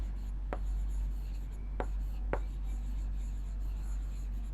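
Pen writing on paper in a quiet room, three short distinct scratchy strokes close to the microphone over a constant low hum.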